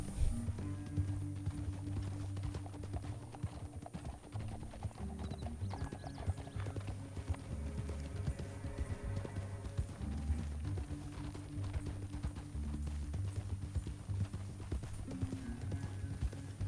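Horse hooves clip-clop steadily through the whole stretch while a horse is ridden in Red Dead Redemption 2, with a whinny, an underlying music bed and game sounds layered over them.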